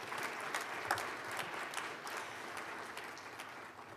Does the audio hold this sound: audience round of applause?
yes